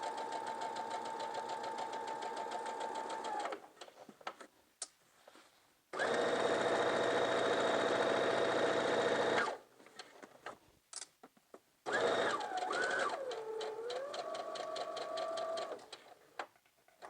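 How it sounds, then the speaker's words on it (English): Sewing machine running in bursts while stitching the seams of a lined pencil skirt, with a steady motor whir and rapid needle ticking in three long runs separated by pauses and handling noise. "we're going to go to the sewing machine."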